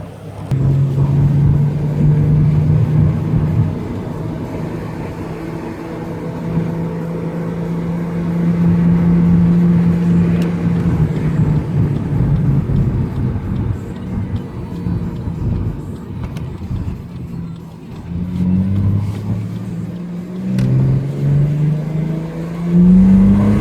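A Ford Falcon BA with the inline-six engine pulls away on a test drive after its ignition coils were replaced, giving a steady loud drone that rises and falls through the gears, with no one talking.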